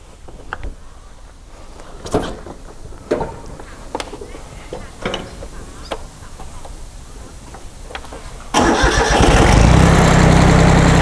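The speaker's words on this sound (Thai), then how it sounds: "เดี๋ยวผมจะ ลองสตาร์ทให้ดูนะครับ" A Yanmar F14D farm tractor imported from Japan cranks over after several scattered clicks and knocks, then its diesel engine catches and runs loud and steady near the recorder, with roosters and chickens clucking in the background.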